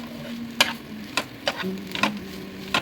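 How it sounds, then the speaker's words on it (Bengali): Sandwich filling ingredients being mixed together in a bowl, with a handful of sharp scraping and clinking stirs at irregular intervals over a soft background hum, close and fairly quiet with no talking. "দেখো ভালো করে সবগুলো একসঙ্গে মিশিয়ে নিচ্ছি যাতে সব কিছু সুন্দরভাবে মিশে যায়"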